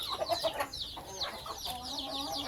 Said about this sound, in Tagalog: Meron ditong sisiw. Ayan guys, oh, napakarami ng sisiw nila guys, oh.